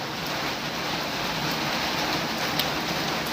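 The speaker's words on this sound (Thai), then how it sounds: "ฝนตก" Steady rain falling outdoors, a dense, even hiss of drops on surfaces that stays constant for a few seconds with no talk.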